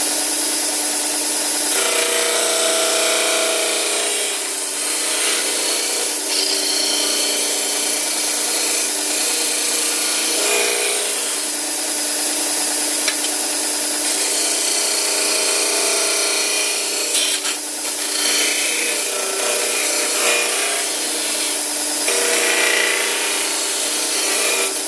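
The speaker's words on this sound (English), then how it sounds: "We'll use the disc sander to do it." A disc sander grinds the corners of a wooden sign base round, a continuous loud abrasive whir with small shifts in pitch as the wood is pressed and turned against the disc, with no talking.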